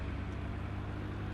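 A truck engine in the Farming Simulator 17 PC game revs at over 6,000 RPM, a steady, dense, loud drone that holds even throughout with no talking.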